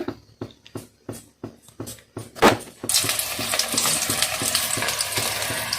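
Soft pithe dumplings slipped into hot oil: a few light taps and clicks give way to a sudden, steady loud sizzle and crackle of frying that carries on without voices.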